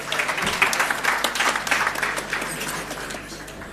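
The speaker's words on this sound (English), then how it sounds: "Another round of applause." An audience at an agriculture talk gives a round of applause, brisk and fairly loud at first, then gradually tapering off over a few seconds.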